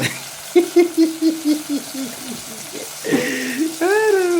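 Small omena fish frying in a pan with salt and tomato are stirred in a steady run of scraping, sizzling strokes that sit close and fairly loud, with a voice briefly talking over the later part.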